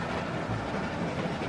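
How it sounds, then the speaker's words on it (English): Steady rumble of a moving train in The Walking Dead Telltale game, a continuous rolling rail noise with faint clatter, even and unbroken throughout with no voices. "Stop the train, man."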